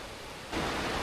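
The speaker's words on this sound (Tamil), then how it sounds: "கிட்டத்தட்ட அந்த ஃபால்ஸ் இருக்க இடத்துக்கு வந்துட்டோங்க. பாருங்க, சூப்பராக போயிட்டு இருக்கு." Sembarangulam waterfall near Kodaikanal, a steady broadband rush of falling water that grows louder partway through, with no talk.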